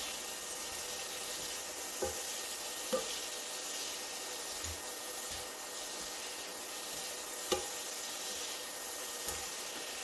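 Constant hissing sizzle of shrimp scampi cooking in a hot wok, with a few soft clicks and taps of a utensil scattered through.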